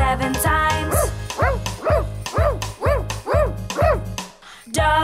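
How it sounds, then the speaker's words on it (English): A cartoon dog in a children's counting show barks seven times in a quick, even rhythm, each bark a bright, yelping bow-wow, close and loud, with no talking between. "Dog barks 7 times."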